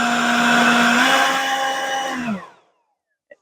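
A Ryobi P2014 HP 18V cordless leaf blower with a 4 amp hour battery roars on turbo, its pitch climbing slightly, then shuts off and winds down, followed by silence and a tiny click.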